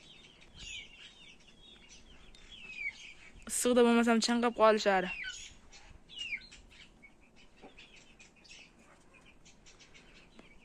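Chirping from 1.5-month-old chicks, faint scattered high peeps throughout, with someone speaking in the middle and louder calls briefly rising around him.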